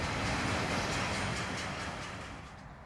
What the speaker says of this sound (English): BNSF 7784, Kansas City to Houston automobile train, Joshua, Texas